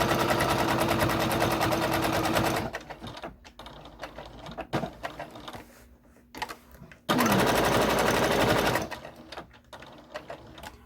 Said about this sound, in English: I'm just giving it a little extra back stitch there.